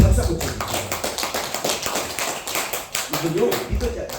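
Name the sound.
church congregation clapping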